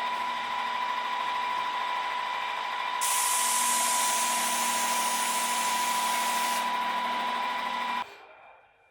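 A Wagner TempSpray heated-hose airless sprayer running at about 1200 psi with a 517 tip, spraying trade emulsion paint: a steady tonal pump whine joined by a loud, hissing spray burst lasting several seconds before cutting off.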